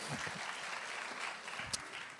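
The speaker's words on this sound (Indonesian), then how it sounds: "Berikan tepuk tangan kita untuk Tuhan kita." A church congregation claps in praise during a sermon, a faint steady patter of hands heard from a distance with a few low murmurs beneath it.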